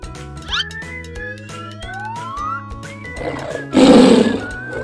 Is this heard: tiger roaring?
yes